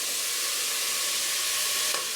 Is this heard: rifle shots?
no